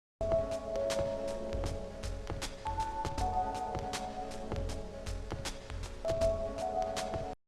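An eerie, steady ambient drone from a room in the video game Silent Hill 2, with low rumble and held tones, punctuated by sharp clicks and knocks at irregular intervals. No voices.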